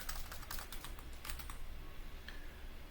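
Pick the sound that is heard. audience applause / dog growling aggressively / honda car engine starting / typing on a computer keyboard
typing on a computer keyboard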